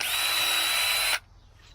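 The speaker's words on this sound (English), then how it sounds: "just drill the top board here where you're going to put your screws down in" A Mac 10-10 power drill runs close and loud, drilling through the top wooden board of a sawbuck in one continuous whine of just over a second. It then stops abruptly, leaving near silence.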